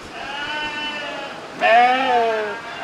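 Sheep bleating at a 4-H market sheep show during extreme summer heat: one wavering bleat, then a louder, closer second bleat, with no talking.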